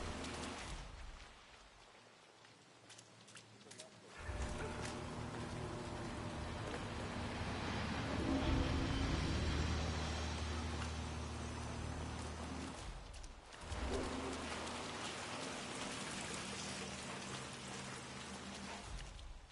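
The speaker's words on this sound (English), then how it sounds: "Rain, rain, nothing but rain." Steady rain falls throughout the Hitman 3 game world, a broad close hiss with a drop where it briefly thins and then returns, with no speech.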